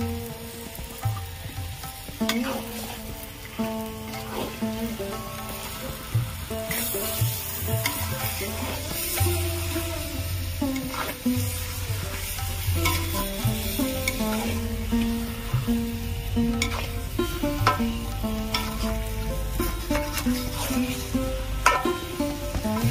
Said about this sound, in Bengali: ফেটানো টক দই দিয়ে দিলাম।